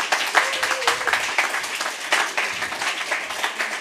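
Applause from an audience at a workshop closing event, a dense steady patter of many hands clapping throughout, fairly close and loud.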